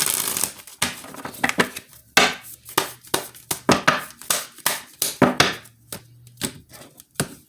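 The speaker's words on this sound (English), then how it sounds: "And I also pre-shuffle my cards" Tarot cards being shuffled by hand, heard as a rapid series of sharp, crisp riffling bursts and snaps in an irregular rhythm, close up and fairly loud with no talking.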